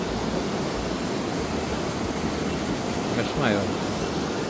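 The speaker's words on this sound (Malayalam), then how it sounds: "കുഞ്ഞൊരു ഡാമാണ് കേട്ടോ ഇവിടെ വയലിലേക്ക് സൈഡിലൂടെ പോകുന്നേ" Water pours over a small dam toward paddy fields, a dense, steady roar of rushing flow that fills the clip, with a brief voice near the end.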